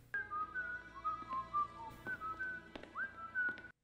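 A person whistles a wandering, melodic tune of short and held notes, clear and close, with no talking.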